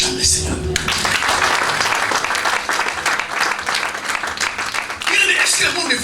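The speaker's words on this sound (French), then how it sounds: "On acclame le Seigneur." A church congregation breaks into loud sustained applause for the Lord, dense clapping filling the room for several seconds, with voices mixed in.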